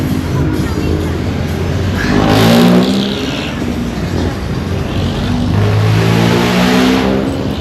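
A car engine revs and drones steadily while the driver eases into a parking spot, its tone rising and falling over continuous road noise, with people talking through much of it.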